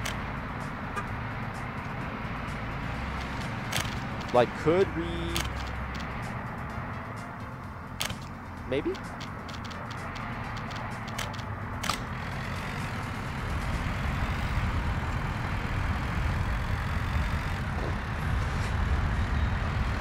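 Road traffic in Workers and Resources: Soviet Republic, with car and truck engines rumbling in a steady low drone that grows louder toward the end, a brief hiss like an air brake, and faint talk.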